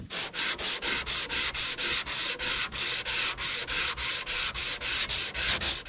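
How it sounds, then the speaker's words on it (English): Hand sanding a boat hull repair with a block made from a belt sander pad on a board, steady back-and-forth rasping strokes, about two per second, close and fairly loud with no talking. "This sanding block I'm using here, it's just a belt sander sanding pad with a board in it."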